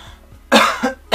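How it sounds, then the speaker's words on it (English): Two loud, close coughs on a train, the first longer with a short tail and the second cut short. "the people coughing loudly"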